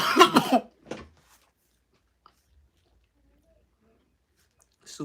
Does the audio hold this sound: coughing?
yes